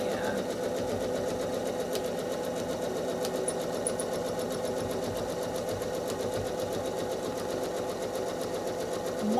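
A quilting sewing machine runs continuously at a fast, even stitch rate while stitching in the ditch on a quilt block, its steady close hum and rapid needle patter filling the whole stretch.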